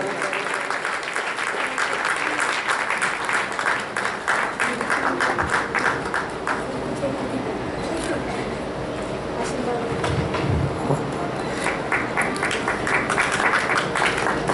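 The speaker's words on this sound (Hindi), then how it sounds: "जोरदार तालियों से" Sustained, loud applause from a crowd at a satsang award ceremony, dense clapping that runs on, dips briefly about midway, then swells again.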